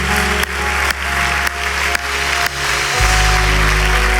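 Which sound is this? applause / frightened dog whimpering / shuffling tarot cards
applause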